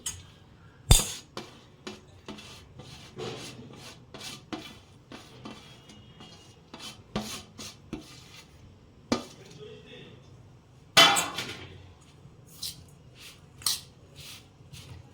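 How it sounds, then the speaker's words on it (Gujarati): Grated Gunda raw mango being mixed by hand into homemade pickle masala, with scattered clinks of utensils against a steel dish, soft squishing and scraping, and sharp louder knocks near the start and middle. "આ રીતના બધી કેરી અંદર મસાલાની અંદર મિક્સ કરી દઈશું"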